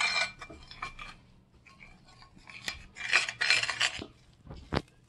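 A spoon scrapes and clinks around a bowl while bread dough ingredients for a spelt grain sourdough loaf, with honey added, are stirred together, giving irregular close rasping strokes and one sharp knock near the end.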